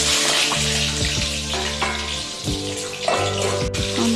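Four eggs fry in hot oil for chicken biryani, a dense, close hiss and bubbling sizzle that carries steadily throughout with faint utensil scrapes.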